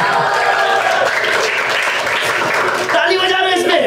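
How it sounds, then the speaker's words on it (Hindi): Audience clapping during a stand-up comedy set, a dense, loud wash of applause mixed with cheering and a voice continuing over it throughout. "ताली बजा रहे इसमें"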